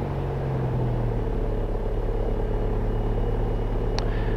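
A Cirrus SR20 piston engine idles at 1000 RPM, giving a steady, loud low-pitched drone with a throbbing rumble and a short faint tone near the end.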